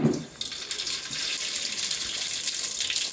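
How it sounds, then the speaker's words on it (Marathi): Mustard seeds dropped into hot oil in a pan while cooking a jackfruit vegetable dish in Malvan, giving a loud, steady hissing sizzle after a soft opening thump. "आता आपण पहिले मोहरी टाकतोय"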